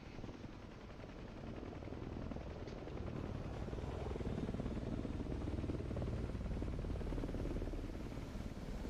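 An aircraft auxiliary power unit spools up in the DCS flight simulator on an A-10C II, a steady, droning mechanical whine and rumble that builds slightly and then holds constant.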